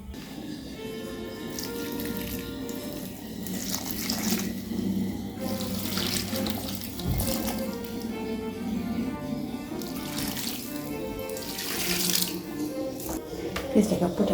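Water pours steadily from a tap or can onto freshly repotted succulents, a continuous close splashing and trickling into the soil that swells now and then, with a voice talking over it.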